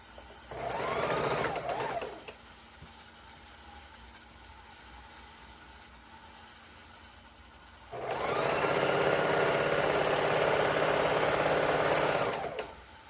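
A sewing machine running close by while attaching the final border piece to a baby quilt: two steady, buzzing stretches of stitching, a short one at the start and a longer one later, separated by quiet.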